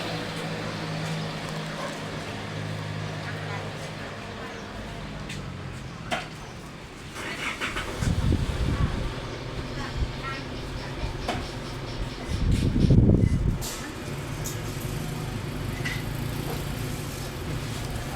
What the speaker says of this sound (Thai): นี่รถไถนะครับ